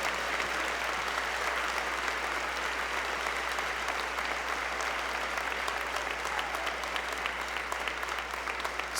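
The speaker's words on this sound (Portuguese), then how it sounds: "Quer aplaudir, Senhor? Aplauda, meu irmão," A church congregation applauds steadily during a Portuguese-language sermon, a dense continuous wash of many hands clapping at moderate distance, without talk over it.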